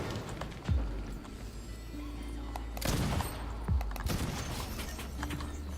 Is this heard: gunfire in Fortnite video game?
yes